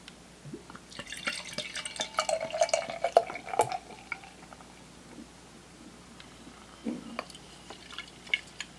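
Spencer India Pale Ale is poured into a tulip-style glass, giving a quiet, bubbling liquid gurgle with small glassy clinks and a few scattered drips in a calm room.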